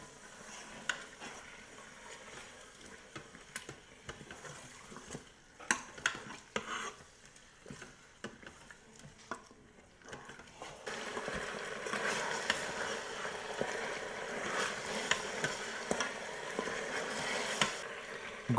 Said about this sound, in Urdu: گوشت بھن گیا ہے